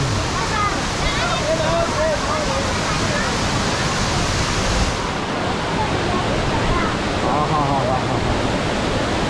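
Constant heavy rush of Bheemeshwara waterfall in the Karnataka forest nearby, loud and unbroken, with distant voices barely audible under the roar.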